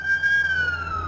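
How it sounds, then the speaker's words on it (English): A police siren wails close by near a courthouse, a single tone sliding slowly downward as it passes, heard alone for about a second. "the number of sirens that go by our location here during the course of the broadcast day"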